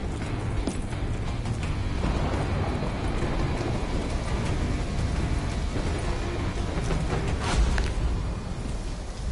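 Steady heavy rain pours through a video game storm over a decaying, run-down settlement, with low rolling thunder rumbling underneath and a sharper crack near the end, dense and continuous throughout.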